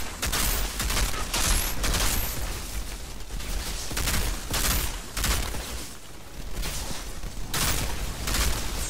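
Rapid bursts of gunfire from the Outriders video game, dense overlapping shots and blasts repeating loudly throughout, with no clear speech.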